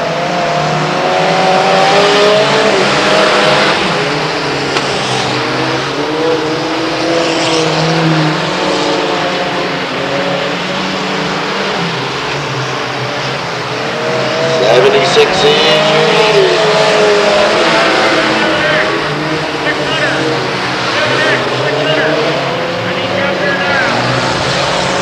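Race cars battling for third place at Delta Speedway, a steady roar of engines racing side by side through the whole stretch, loud and continuous, with a track announcer talking over it.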